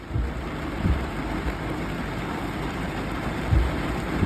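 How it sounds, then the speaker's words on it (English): Dense, steady rain pours down over a local park with a constant hiss, and a couple of soft low thumps break through. "Starts pouring the rain."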